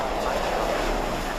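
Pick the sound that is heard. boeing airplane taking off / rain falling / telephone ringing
boeing airplane taking off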